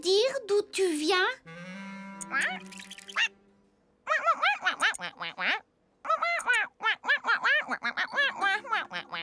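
A small cartoon duckling quacks in a French Oui-Oui detective cartoon, squeaky repeated bursts alternating with high giggly chatter, close and lively with brief pauses.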